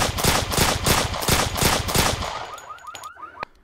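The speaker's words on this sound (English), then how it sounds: "This is actually a soft air gun. It's not a real gun." Rapid bursts of airsoft gun fire, a loud, dense fusillade for about two and a half seconds, then trailing off into scattered clicks and a final sharp crack.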